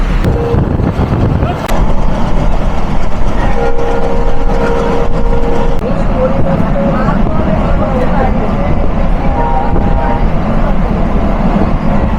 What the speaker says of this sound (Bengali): আমাদের ট্রেন প্রবেশ করছে আস্তে আস্তে যাত্রা বিরতির 8ম স্টেশন মহেশপুরে